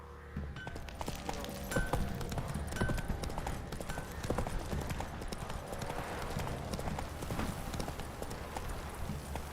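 Hooves of the horse Roach clip-clop at a steady pace in The Witcher 3, a dense rhythmic trot close up over ambient game sound, with faint voices now and then.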